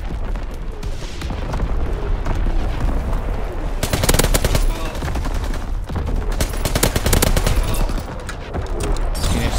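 Dense gunfire crackles in Call of Duty WW2 multiplayer on the Shadow War DLC maps. Loud rapid machine-gun bursts and overlapping rifle shots arrive in heavy volleys, with brief lulls between them.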